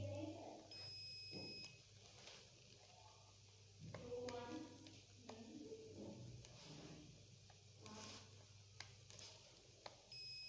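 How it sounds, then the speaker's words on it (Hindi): A multimeter gives high, thin continuity beeps while probing a laptop MOSFET, with short tones coming and going over a quiet workbench background and soft talking in between. "यहाँ पे बीप सुनाई दे रहा है"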